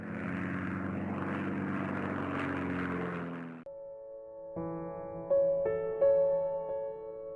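The four propeller engines of a Martin M130 flying boat built for Pan American Airways drone steadily and loudly, then the sound cuts off abruptly and gives way to sustained tonal notes that swell in stages.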